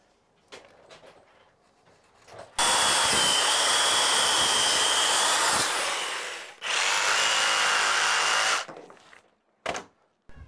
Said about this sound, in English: I'm gonna attach the bottom plates with Tapcons, concrete screws.